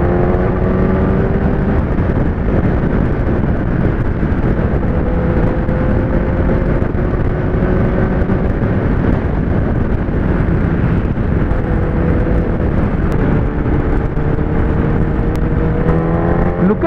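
A Kawasaki ZX-10R motorcycle accelerating hard in fourth gear, a loud continuous engine roar with steadily rising pitch over heavy wind rush throughout, no voices.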